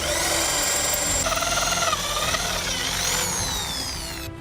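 A power drill whines loudly and continuously, its pitch rising and shifting as it bites through a metal part for a forged Viking helmet, then tapering off at the end.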